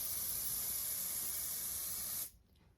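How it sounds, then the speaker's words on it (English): Sephora airbrush foundation sprays in a steady, close, broadband hiss for a little over two seconds, then cuts off abruptly into near silence. "It's like you're spray painting."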